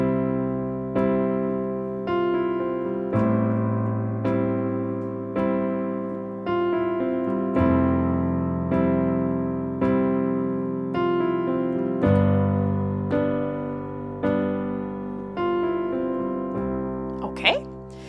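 Pop piano part with a short melodic fill added on beat 4 of every bar, steady chords with the fill repeating in each bar, close and clear with no talking.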